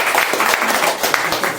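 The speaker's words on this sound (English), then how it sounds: "Big round of applause." A roomful of people at a business networking meeting clapping together, a dense burst of applause with ragged, overlapping claps sustained at steady volume.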